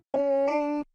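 An unprocessed vocal chop sample in FL Studio: a single dry sung vocal note held for under a second, bright and harmonic, cutting off cleanly with no effects or background.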